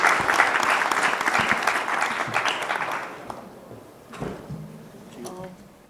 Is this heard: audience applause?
yes